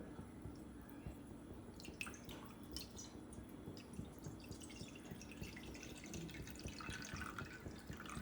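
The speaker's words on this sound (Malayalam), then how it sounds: "ഇതിൽ വെള്ളം ഒഴിച്ചു കൊടുക്കുക" Water runs and drips steadily into a pan, a soft continuous trickle with faint splashes, fairly quiet and close, with no talking.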